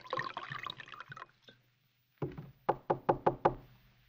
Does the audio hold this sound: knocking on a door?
yes